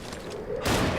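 Gunfire from enemy gunners in Lies of P: a short burst of shots swells up partway through, loud and close against a busy game backdrop.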